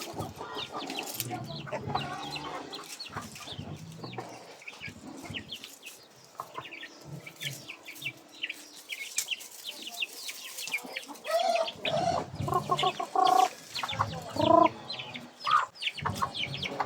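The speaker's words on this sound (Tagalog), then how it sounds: "Yan, ang laki-laki na mga manok sana guys." Large chickens cluck and squawk repeatedly at close range, with irregular bursts of calls growing busier toward the end.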